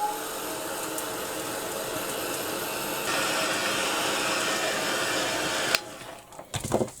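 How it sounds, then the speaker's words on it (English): A heat tool blasts steadily while drying a painted card background, a loud continuous rushing whir for several seconds that grows a little louder partway through, then cuts off into a few faint handling clicks and knocks. "so I'm going to quickly dry that"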